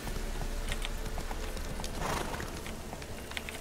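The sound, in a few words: horse hooves galloping in video game Witcher 3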